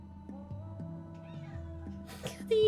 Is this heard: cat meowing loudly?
yes